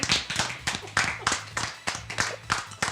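Scattered clapping from a small audience at a live comedy show, a handful of uneven, separate claps close by with gaps between them, brief and sparse rather than a full ovation.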